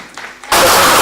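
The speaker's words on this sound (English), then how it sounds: "Guys, you got to clap." An audience at a refugee-themed community event breaks into loud applause, which bursts in suddenly halfway through after a brief quiet murmur and fills the rest of the moment.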